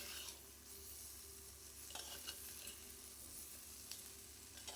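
Vegetables sauté and sizzle in hot oil for a fried dried-fish curry, a steady quiet hiss with faint crackles and occasional soft stirring scrapes throughout.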